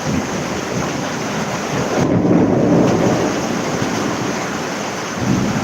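Heavy monsoon downpour in Titwala heard from a home gallery, with a loud rumble of thunder swelling near the middle over a constant dense roar of rain.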